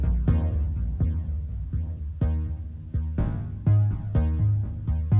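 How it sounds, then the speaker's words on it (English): Soloed synth ping notes from an electronic music track, struck one at a time in an uneven rhythm, each with a sharp attack and ringing decay, clear and alone. "So I'm gonna just solo the pings themselves."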